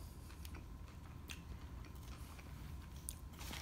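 Someone bites into and chews a burger close to the mic, soft wet mastication with faint crunchy clicks over a low steady room background, no talking.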